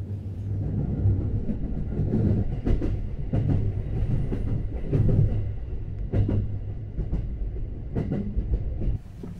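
A local passenger train in Japan, arriving at Kyoto Station, rumbles along steadily, with rhythmic clicking and clattering of wheels over rail joints, heard from inside the carriage; no speech.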